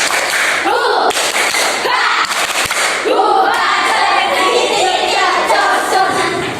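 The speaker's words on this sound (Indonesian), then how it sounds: "Coba kita tepuk semangat." Children in a classroom perform a rhythmic spirit clap, sharp patterned bursts of clapping alternating with loud group chanting, close and energetic.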